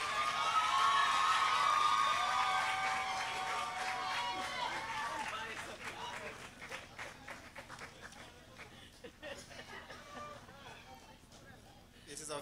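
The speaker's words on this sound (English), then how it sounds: "please give a round of applause as we welcome Mr." Audience applause greets a speaker at a 2018 graduation ceremony, a loud burst of clapping and cheering up front that gradually thins into scattered claps and crowd murmur.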